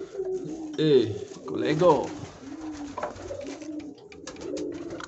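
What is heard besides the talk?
pigeons cooing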